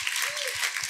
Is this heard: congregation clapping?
yes